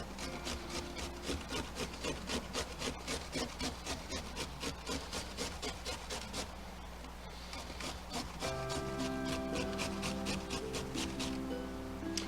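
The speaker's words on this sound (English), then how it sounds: "when you're using a cheese grater, watch your fingers, watch your knuckles." Vegetables grated by hand on a cheese grater for macaroni salad, a steady rapid series of rasping strokes, fairly faint and close, with no talk.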